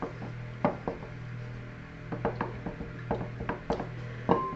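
A wooden spoon beats three chocolate muffin batter ingredients in a bowl, giving irregular knocks and scrapes against the bowl, some sharper than others, close up over a steady low background hum.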